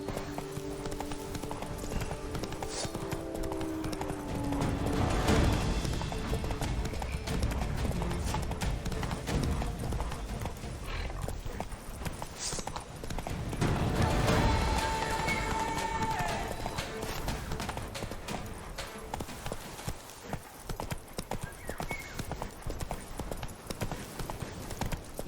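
Horse hooves galloping in The Witcher 3, a fast, steady clip-clop rhythm that stays close and prominent throughout, with swells of louder movement, a faint whinny and occasional speech over the hoofbeats.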